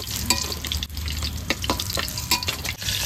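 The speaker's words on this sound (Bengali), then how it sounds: "তুলে নিয়ে অন্য মাছগুলো ভেজে নেব।" Rohu fish pieces frying in hot oil in a home kitchen, a steady crackling sizzle with intermittent louder spatters and occasional stirring scrapes throughout.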